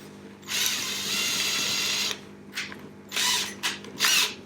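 An electric drill bores a hole through a thermos lid: one long steady whirring run, then several short bursts of drilling with pauses between, loud and close, with no voices.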